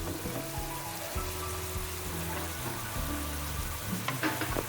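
An artichoke and pine mushroom pasta sauce sizzles and bubbles in a pan as its alcohol cooks off, a steady crackling fry with light stirring sounds and no talking.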